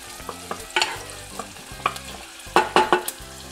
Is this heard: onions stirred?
yes